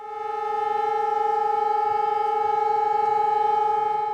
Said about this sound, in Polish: punktualnie o godzinie 17 zawyły syreny.